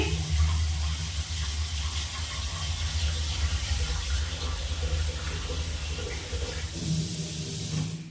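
Water runs steadily from a kitchen tap to soak red amaranth greens, a continuous close hiss and splash that briefly shifts in tone near the end.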